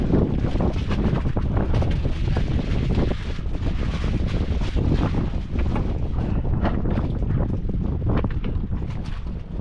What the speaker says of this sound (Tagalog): Lakas na yung hangin, no?